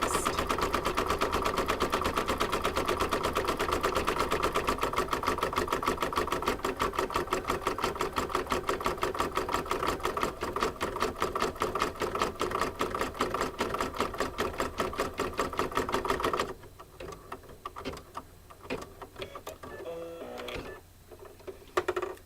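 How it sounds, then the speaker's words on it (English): An embroidery sewing machine stitches an apple stem on an in-the-hoop coaster, its fast, steady needle chatter loud and continuous for about sixteen seconds before it slows into lighter, irregular clicks. "this next color is going to stitch the stem, and then while that's stitching"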